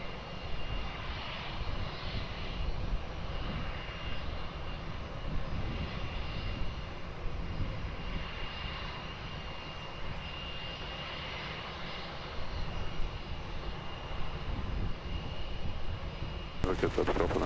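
A heavy passenger jet taking off from runway 20 at Lisbon Airport, a sustained loud engine roar with a thin high whine riding on top, heard steadily throughout with faint radio voices beneath it.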